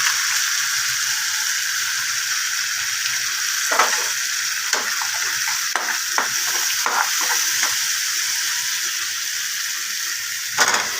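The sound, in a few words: potatoes and Maggi masala spices frying and being stirred in pan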